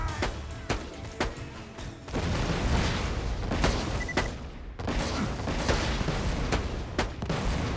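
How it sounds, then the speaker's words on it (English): Grenadier enemy firing projectiles in Borderlands 2, heard as a run of sharp gunshot-like bursts and booms, some isolated and some rapid, over a dense loud battle din with no talk. "What are you shooting there? Look at his projectiles going all over the place."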